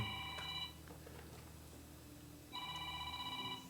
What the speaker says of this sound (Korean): 53분에 꼭 전화가 옵니다.